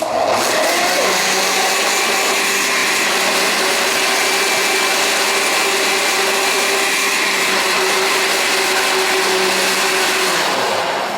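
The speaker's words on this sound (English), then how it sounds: "after all these years operating a blender, I'd remember to put the lid on" A blender whirs steadily at high speed for about ten seconds, loud and close, with a sustained motor hum and no talking.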